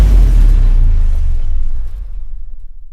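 A single deep explosion sound effect booms loud and close, then rolls off into a long rumbling decay that fades to near silence.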